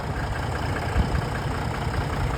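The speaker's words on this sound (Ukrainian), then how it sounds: "Послухайте, як працює цей супернадійний трьохлітровий турбодизельний мотор." A 2012 Mercedes-Benz C300 4Motion's three-litre turbodiesel engine idles with a steady low rumble and faint rhythmic clatter, close by, no voices.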